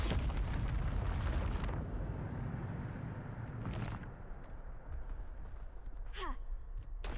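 Loud explosion from the Bombarda spell in the video game Hogwarts Legacy, a broad roaring blast that fades over about two seconds into rumbling game ambience, with a short whooshing effect near the end.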